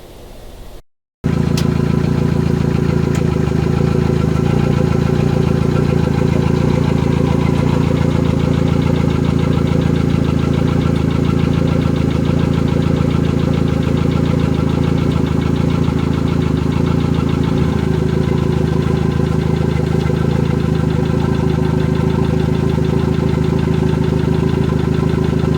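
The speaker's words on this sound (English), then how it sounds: "here's a few shots of the engine running" A Yamaha F70 outboard engine runs at a steady idle for the whole stretch, a loud, constant mechanical drone with a faint knocking texture and no voices, after a brief moment of quiet at the very start.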